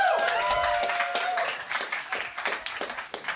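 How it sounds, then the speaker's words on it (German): Audience applause at a live German stand-up comedy show, a dense wash of clapping from a crowd that thins into scattered claps, with a brief voice over the start. "Mal Applaus"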